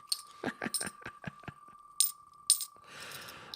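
Small silver coins, dimes, clink and tap one after another in a quick, irregular run, with a couple of brighter chimes and a soft shuffling rattle at the end.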